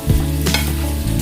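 Shrimp sizzle steadily in a hot pan over medium-high heat while a utensil stirs and scrapes through them, close and moderately loud, with no talking.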